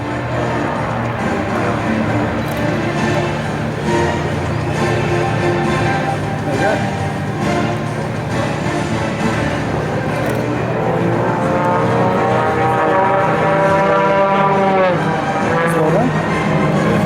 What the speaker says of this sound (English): There you see aircraft 2 and 3 pulling up and splitting into a heart